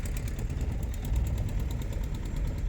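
A car engine idles in first gear as a learner driver slowly releases the clutch, giving a steady, close low rumble with faint vibration throughout and no voices.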